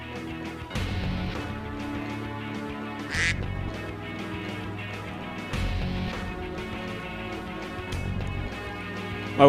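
Duck quack sound effects go off in quick repeated bursts, loud over steady background game music from Metal Wolf Chaos, with no speech.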